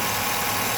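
A Chevy Vortec 5.3L V8 engine idles with a steady, continuous drone, recently changed to full synthetic 5W30 oil, heard close up without talk.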